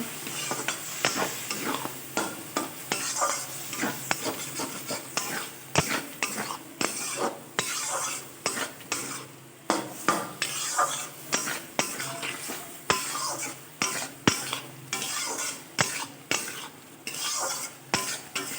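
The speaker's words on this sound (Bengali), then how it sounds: "সর্ষে কাঁচা লঙ্কা বাটাটাও দিয়ে দিলাম দিয়ে সামান্য একটু জল দেব দিয়ে ভালোভাবে কষিয়ে নেব" Mustard and green chili paste sautéed with shrimp and okra in a pan, giving a soft continuous sizzle broken by frequent rhythmic scraping and clinking of a spoon stirring against the metal.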